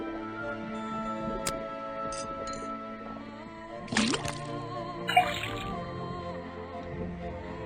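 Liquid runs from a faucet into a cauldron in the Detective Grimoire swamp game, soft drips and trickles over a steady background of game music, with a couple of small clinks and splashes.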